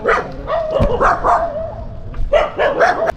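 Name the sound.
dogs barking on the road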